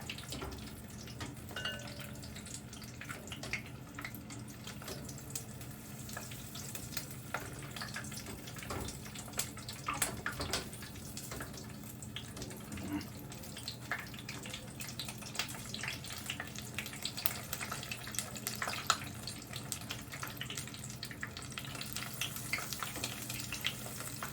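Tempura-battered Brussels sprouts frying in hot oil, a steady broadband sizzle with small crackles and pops running continuously throughout, moderately loud and close, with no talking.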